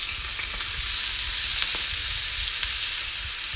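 Fish fillet frying skin side down in a pan with a little butter, giving a steady, close, even sizzle with faint crackles throughout.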